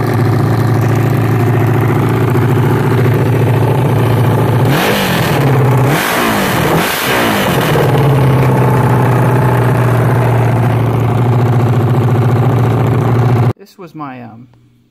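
A 1979 Suzuki GS750 motorcycle engine, low on fuel, idles close by with a steady throb, revs up a few times around the middle, then cuts off abruptly near the end.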